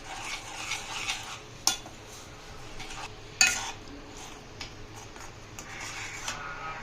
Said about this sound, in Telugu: ఇప్పుడు ఇందులో ప్రాన్స్ యాడ్ చేస్తున్నాం. వేసి బాగా కలుపుకోవాలి.